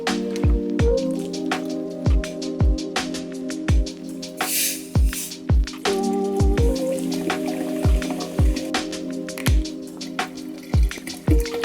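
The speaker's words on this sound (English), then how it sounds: "Now that your ice is in your punch bowl, it's just in with all of the other ingredients." Punch ingredients pour over ice in a punch bowl, with repeated clinks and splashy drips of liquid over a steady pouring wash across the whole stretch, close and fairly loud, no talk.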